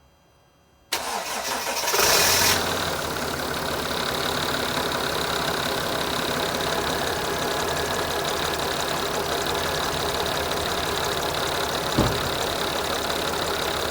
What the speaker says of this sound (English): Now I'm going to actually start the van up, let it run, and let it take some water.